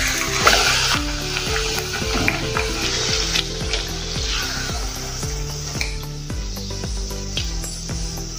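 Urad dal puris deep-frying in hot oil give a steady, close crackling sizzle with bubbling, overlaid with repeated rhythmic musical tones throughout.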